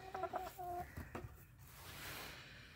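Chickens in a warm coop on a snowy farm give a few soft, close clucks with a brief higher squawk, in short bursts over a steady background hum.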